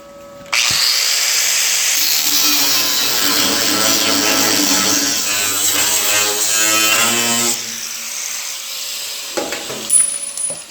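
A power tool cuts through a bolt with a loud, sustained grinding whine lasting several seconds, its pitch wavering as the blade bites, before it stops abruptly and a few clanks follow.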